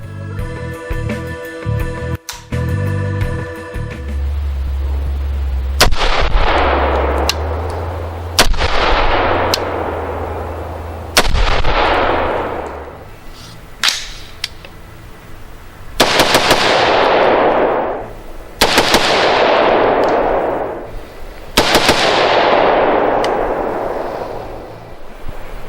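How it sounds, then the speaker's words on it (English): AR-15 rifle firing Silver Bear .223 ammunition with hard, NATO-style primers through a Velocity drop-in trigger at SHOT Show 2017: about a dozen loud, sharp shots, spaced at irregular intervals, each with a long ringing decay, no talk. "All that was Silver Bear 223, which has pretty hard primers similar to NATO spec primers"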